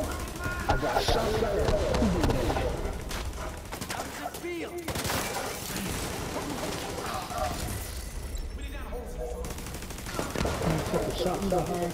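Dense, continuous gunfire from The Division 2, with machine-gun bursts and single shots layered over a busy combat soundscape, heard close and loud throughout while players talk over it.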